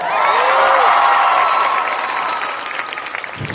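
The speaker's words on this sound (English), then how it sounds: "So be very, very generous with your applause tonight" Audience applause and cheering fill a large hall at the Miss USA 2015 pageant in Baton Rouge, a loud, dense roar of clapping with whoops on top that swells early and then eases slightly.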